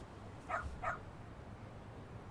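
Two quick, faint dog barks sound in the video game Lost Judgment, one right after the other, then quiet background.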